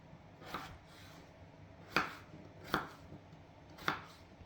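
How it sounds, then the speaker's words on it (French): A knife chops potatoes on a board in four sharp, separate knocks spaced about a second apart, close and clear over quiet room tone. "Pendant ce temps-là, on va découper les pommes de terre."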